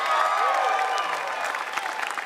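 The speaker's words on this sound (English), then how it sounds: "Amy Cole Flynn, ladies and gentlemen, give it up." A crowd at an outdoor pro-marijuana rally in Melbourne on 420 Day applauds steadily, dense clapping with scattered whoops, heard throughout at a moderate level.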